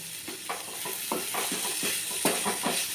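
Prawn and ridge gourd curry with green chilli stirred in a pan, a soft continuous sizzle broken by repeated scraping strokes of a spoon in an uneven rhythm, with no talk.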